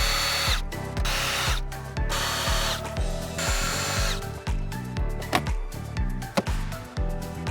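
A power drill drives out dash panel screws on a 2012-2020 Chevrolet Sonic, in a string of short, close whirring bursts with brief pauses between them.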